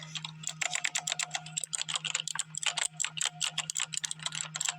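Mechanical keyboard keys clicking in quick, uneven bursts of typing, close and crisp over a steady electrical hum, with brief pauses between runs of keystrokes.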